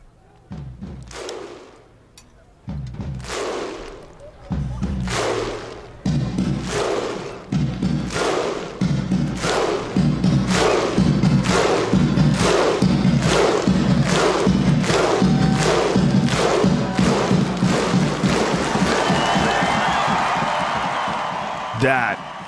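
Over ten thousand Icelandic football fans performing the Viking clap, slow booming unison claps with a shouted 'huh' after each, speeding up into a rapid roar of claps and cheering, loud and near, with a voice talking over it at the start.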